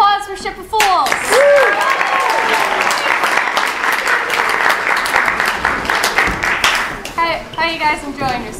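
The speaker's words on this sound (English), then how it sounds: "One more round of applause for Ship of Fools." Audience at an improv comedy show applauds a troupe, with a steady roar of clapping mixed with cheers and whoops and a few high voices rising over it.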